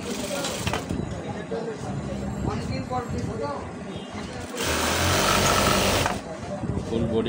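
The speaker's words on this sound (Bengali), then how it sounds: "চিকন সেলাইটা দিয়ে নিচ্ছি" A sewing machine runs a fine seam on a lined blouse with two-quarter sleeves, a busy whirring stitch that surges louder near the end, with a voice talking over parts of it.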